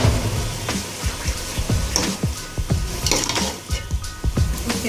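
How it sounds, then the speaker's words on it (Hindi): Potato pieces added to about a cup of hot oil in a pot for aloo qeema, with a busy run of clinking, scraping and stirring knocks over a light frying sizzle, close and moderately loud. "1 कप के बराबर तेल। साथ ही शामिल कर लेंगे इसमें आलू।"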